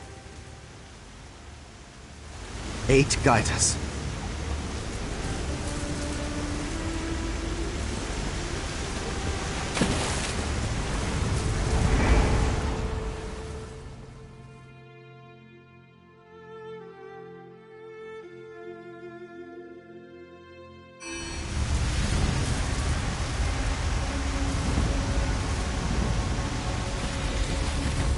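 Steady rain and storm wash in the Sea Keep area of the game Elder Scrolls Online, a broadband hiss with a couple of heavier rumbling swells, dropping to a quieter lull midway before the downpour returns; a voice speaks briefly.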